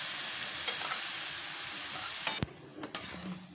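Paneer roasting and sizzling in a pan, with a steady frying hiss and occasional stirring scrapes, close and fairly loud, with no talking.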